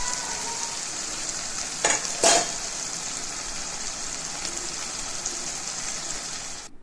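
Taro greens sautéing with spices in a pan give a steady, close sizzle, broken by a couple of brief louder stirring scrapes near the two-second mark.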